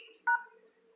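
An Android phone's keypad gives a single short, clean dialing tone while a secret code is entered, alone against a faint background hum.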